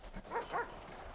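A dog in the FiveM video game gives two quick, faint barks in a row, short and soft against a quiet background.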